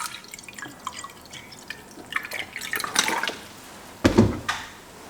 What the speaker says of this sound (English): We're going to pour some water into it like this.